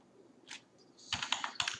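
A few soft keystrokes on a computer keyboard, then a quick burst of clicking typing, close and quiet with no talk.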